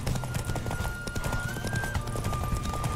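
A horse gallops at speed in The Witcher 3 video game, its rapid clip-clop hoofbeats driving steadily throughout with a sustained musical tone above, and an occasional whinny.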